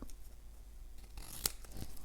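Scissors cut paper for a layered flower card, a few quiet snips and crisp rustles near the end of a soft, close scene with no talking.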